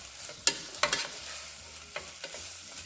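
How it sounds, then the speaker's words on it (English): Soybeans being stirred in a hot pan for homemade Mexican pizza filling, with scattered scraping clacks of the utensil over a soft sizzle, close and fairly quiet, no talking. "Give this a stir."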